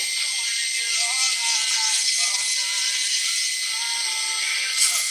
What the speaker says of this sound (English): I just really enjoy using my Dremel more